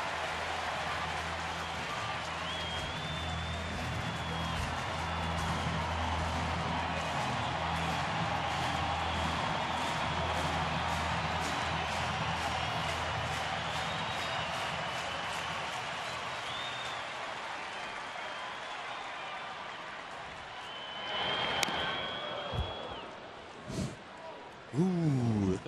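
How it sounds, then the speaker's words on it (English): Steady roar of a baseball stadium crowd at a St. Louis Cardinals at Philadelphia Phillies game, a sustained wash of cheering that swells near the end, with a commentator talking over it. "Crowd was roaring, cheered."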